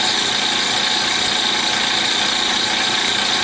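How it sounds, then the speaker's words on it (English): An old air compressor, a twenty-year workhorse used for airbrushing models, runs steadily and loudly with a constant broadband hiss and motor drone, no pauses, heard alone. "in case you're wondering why I felt the need to get a new compressor, check out my workhorse for about the last 20 years"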